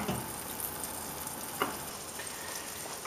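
A decent-sized piece of butter sizzles in a lidded frying pan, a faint, steady crackle with a few small pops, close and quiet with no talking.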